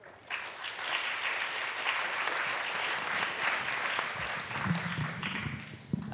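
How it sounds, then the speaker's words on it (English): Audience applause for a speaker at a neuroscience community event, a steady dense clapping that fills the room for about six seconds and fades slightly near the end. "let's give one last round of applause for our speaker."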